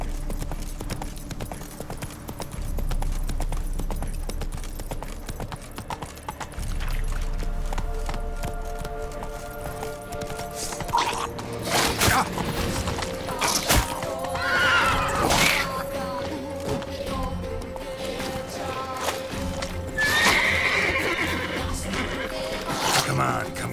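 Roach, a horse in the video game The Witcher 3, with rhythmic hoofbeats and a whinny over a dense layer of game music and ambience, as someone speaks briefly.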